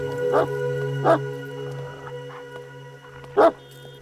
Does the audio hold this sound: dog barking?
yes